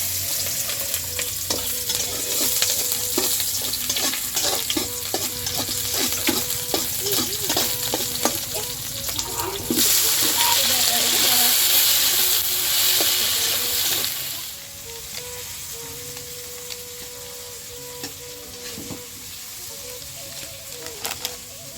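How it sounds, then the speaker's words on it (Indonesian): Sambal chili paste fries in a pan, a steady close sizzle and hiss with scraping stirs throughout, briefly swelling louder midway before settling to a calmer sizzle. "sekarang lanjut goreng sambal"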